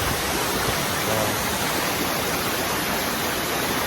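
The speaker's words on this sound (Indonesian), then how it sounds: "kita mulai bertualang di air terjun Tugu Bidadari" The Tugu Bidadari waterfall in Aceh Utara, a steady, dense rush of falling water heard up close and loud throughout, with a brief spoken word over it.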